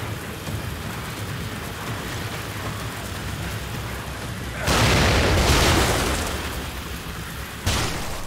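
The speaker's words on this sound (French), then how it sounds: "Ça va exploser. Allez, explose là." A grenade explosion in the video game The Evil Within, a loud broadband blast with a rumbling decay, followed shortly by a second burst over a steady noisy game background.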